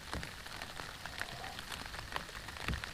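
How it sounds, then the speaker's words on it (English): Rain falls steadily on a surface outdoors under patchy skies, a constant hiss of fine drops with scattered sharper taps, fairly faint and with no voices. "This rain don't quit"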